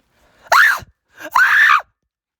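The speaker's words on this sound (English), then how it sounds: "I'm gonna scream." A person screams loudly twice, long high-pitched cries separated by a short pause, close and alone in a quiet room.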